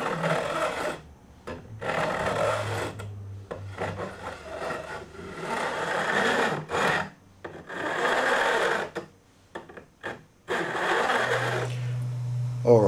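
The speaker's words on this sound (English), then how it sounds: "we need to sand them flat with the edge of the fretboard. And we do that with a little file like that" Small hand file scraping cut guitar fret ends flush with the fretboard edge on a Stratocaster neck, in repeated close rasping strokes of a few seconds each separated by short pauses, with a low hum underneath.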